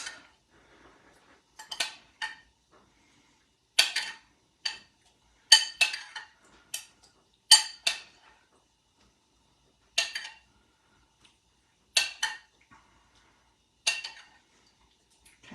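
Spoon stirring melted butter into metal pans of nuts, a series of sharp clinks and scrapes spaced unevenly, close and fairly quiet against near silence.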